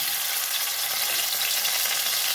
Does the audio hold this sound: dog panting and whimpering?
no